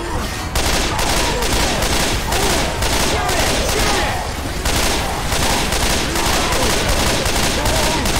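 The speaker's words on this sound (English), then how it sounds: "He shoots." Sustained automatic gunfire in Left 4 Dead 2, The Passing campaign at the Port: rapid, relentless bursts of shots with one brief dip midway, loud and close the whole time.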